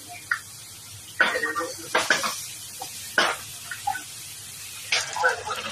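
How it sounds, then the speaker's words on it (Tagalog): White sugar and water stirred in a pan as they cook down to caramel, giving soft intermittent scraping and bubbling sizzle with brief clinks of a utensil against the pan, close and fairly quiet. "2/3 white sugar, and 1/4 cup na water. Caramelize until golden."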